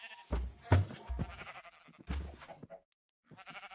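Several short Minecraft sheep bleats in quick succession, fairly close, separated by brief pauses, with a softer bleat near the end.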